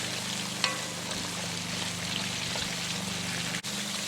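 Kingfish pieces fry in a pan for a Caribbean curry, giving a steady, continuous sizzle close by with a faint scrape partway through and a brief dip near the end, no talk.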